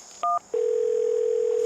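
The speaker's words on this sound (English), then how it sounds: "Let me make a phone call real quick." A telephone dial sends one short dual-tone DTMF beep, then a steady, loud continuous tone holds, close and clear with no talking.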